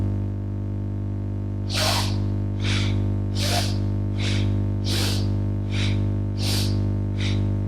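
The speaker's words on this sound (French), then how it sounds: "j'expire le maximum d'air par le nez" Seven forceful nasal exhalations from kundalini yoga breathing, sharp hissing bursts through the nose at a steady rhythm, close and loud over a constant low electrical hum.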